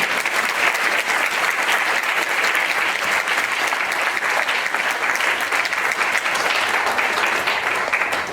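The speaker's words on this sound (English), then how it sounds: "Give them a big round of applause" Sustained applause from an audience at a prayer meeting, dense and steady throughout with no pauses, the clapping close and loud for over eight seconds.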